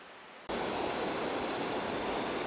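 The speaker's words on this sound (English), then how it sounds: "This is the waterfall I was telling you about, the Snow Creek waterfall right by my campsite." Snow Creek waterfall beside a campsite, a steady broadband rush of falling water that starts abruptly after a brief quiet moment and then roars on loud and constant.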